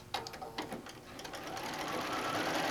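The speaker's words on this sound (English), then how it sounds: "So now at this point, you really can just sew across." A sewing machine stitching across a pieced quilt table runner block, its needle chattering loudly and close, starting with a few uneven bursts before settling into a fast, continuous run.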